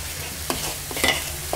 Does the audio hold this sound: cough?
no